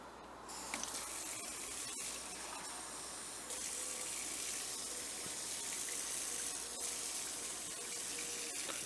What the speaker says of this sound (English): We're going to take 3/4 cup of water and we're going to pour that in.